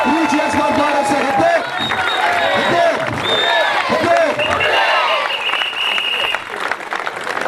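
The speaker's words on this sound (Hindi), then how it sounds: "जोरदार ताली के साथ स्वागत" Spectators at a local cricket tournament final applaud a player with loud, sustained clapping and some cheering, while voices talk over the crowd; the applause thins toward the end.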